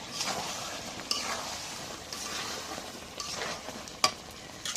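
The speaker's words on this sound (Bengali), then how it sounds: "একটু আলু দিই আলু দিয়ে কষানি করি" Meat and potatoes sizzle and fry in a pan, with a utensil stirring and scraping through them in steady strokes and an occasional sharp clink of metal on the pan; no one speaks.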